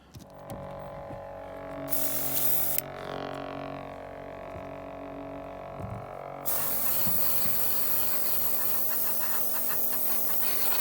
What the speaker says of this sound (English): it's just a case of using the airbrush to kind of go over the model